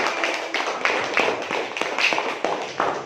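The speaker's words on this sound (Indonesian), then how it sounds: "tepuk tangan buat teman-teman yang sudah berdebat" Classroom applause for student debaters, a small group clapping in an uneven, tapping rhythm that sounds close and fairly loud, without speech over it.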